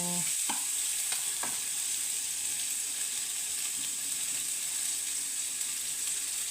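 Onions frying in oil in a pan: a steady, close hiss of sizzling with a few brief stirring scrapes early on, and no voices.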